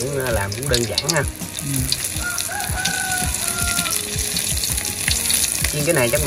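Field crabs deep-frying in about a liter of oil, crackling and sizzling steadily and loudly up close, with occasional stirring scrapes and a rooster crowing faintly in the background.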